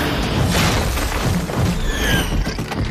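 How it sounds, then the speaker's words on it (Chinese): A booming soul-skill attack effect in Soul Land animation, a heavy rumbling blast with a crashing, shattering texture that sustains loudly throughout. "第一魂技，放屁如打雷，轰天裂地罗三炮。"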